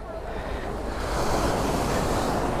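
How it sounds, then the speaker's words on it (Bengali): Sea waves break and wash steadily onto Patenga beach, a continuous loud roar of surf with wind buffeting the microphone and rising slightly toward the end. "এই যে সমুদ্রের ঢেউগুলো এসে যখন লাগে"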